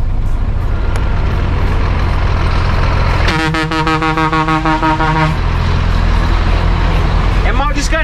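A heavy truck passes on a road, a loud continuous engine rumble with a sustained horn-like tone in the middle, then fading.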